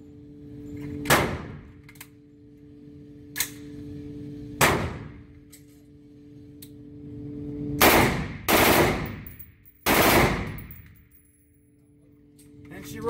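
A custom M16-type rifle built for law enforcement fires several loud, short bursts of automatic rounds, each separated by pauses, with a steady tonal hum running underneath.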